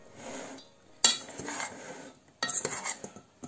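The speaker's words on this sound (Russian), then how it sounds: "перекладываем свои кусочки хлебушка вот такую чашку" Bread pieces for homemade croutons are moved into a bowl in two short bursts of clinking and scraping of utensils against dishware, close and fairly quiet, with a lull between them.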